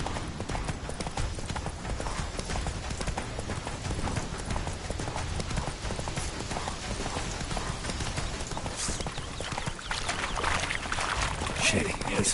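Roach, a horse in a video game, gallops in a fast, steady clip-clop of hooves that runs throughout the sequence. Game dialogue and other sounds play over it.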